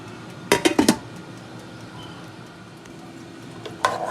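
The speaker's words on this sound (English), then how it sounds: "So here's me actually stirring it." A spoon clinks against a pot of chicken noodle soup as it is stirred, a quick cluster of metallic knocks followed by a quieter stretch and one more clink, over a low kitchen hum.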